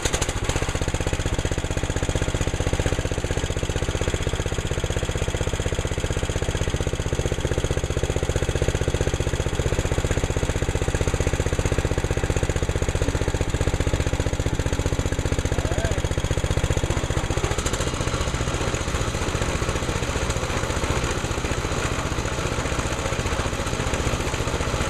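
A home-made snow blower engine runs steadily and loudly, a dense continuous mechanical roar that holds for the whole stretch with no pauses.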